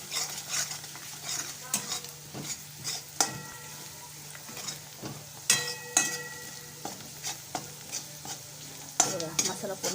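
Red chili powder is sautéed in oil with a spoon, soft sizzling under repeated scraping and clinks of utensil against the pan, close-up and without speech.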